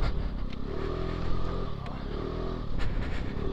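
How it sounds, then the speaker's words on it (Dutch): A four-stroke scooter rides along with a steady, fairly smooth engine drone close by and slight shifts in pitch, with no talking over it. "viertak krachtscooter is toch wat rustgevender dan een tweetak krachtscooter"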